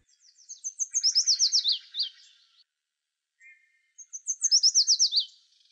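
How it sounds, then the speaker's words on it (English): A yellow warbler sings two bright, rapid phrases of sweet rising-and-falling notes, separated by a pause with one brief soft call, heard clearly against near silence. "The yellow warbler is one of our most common and easily seen summer warblers."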